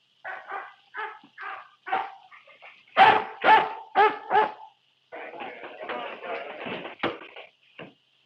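A dog barks in a string of loud, close barks, in short bursts and then a longer run, with no talk over it, set in an old desert-adventure film serial.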